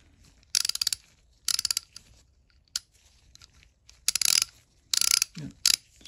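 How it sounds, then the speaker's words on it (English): A vintage Cornwell JR-30 3/8-inch drive ratchet clicks after reassembly, loud close bursts of rapid pawl ticking in about six short runs separated by near-silent gaps, with no talk. "Yep, it's ratcheting."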